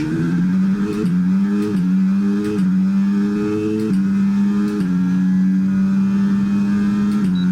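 An F1 car in the video game F1 23 accelerates hard while chasing Perez in Miami, its engine a loud, steady whine that climbs in pitch through several quick upshifts, with no talk over it.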